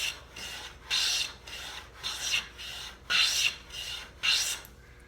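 A coffin smoother hand plane with a freshly sharpened blade takes six rhythmic rasping strokes across a wooden board, each stroke a close, bright shave.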